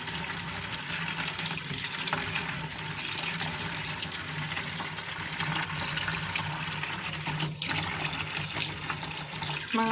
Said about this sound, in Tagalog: hugasan natin to dito. Sa cold water. Or running water.